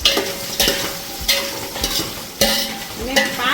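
Potatoes fry in a home kitchen pan for bhungla bateta, with a steady sizzle and about six sharp scraping stirs of the spoon at roughly half-second intervals, close and fairly loud, with no talking.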